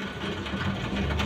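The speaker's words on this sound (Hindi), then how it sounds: "जैसे कि आप देख सकते हो गाड़ी हमारी स्टार्ट हो गई है" A Maruti Celerio petrol/CNG car's engine runs steadily after starting, a low, even mechanical hum with a faint rhythmic whir, close and moderately quiet.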